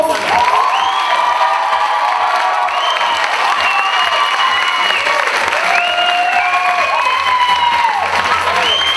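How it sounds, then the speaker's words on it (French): A theatre company is welcomed on stage at a final by a crowd's loud, sustained applause, with cheering, high whoops and shouted voices rising over the continuous clapping throughout. "Je vous demande d'accueillir sous un tonnerre d'applaudissements l'équipe du troupeau."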